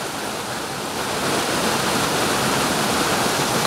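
Steady, dense roar of falling water, a continuous broadband rush that swells slightly louder after the first second and holds without pause.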